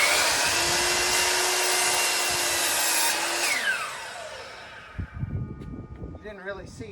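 A power saw shaves the end grain of a wood board for a two-tier workbench, running loud and steady for about three seconds before spinning down, followed by some clattering and handling noises.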